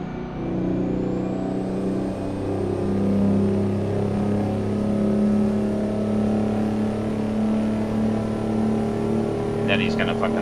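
A Mack R truck with a two-stroke engine in American Truck Simulator, its deep, loud engine drone rising as it accelerates, with a brief hiss near the end and a voice talking over it.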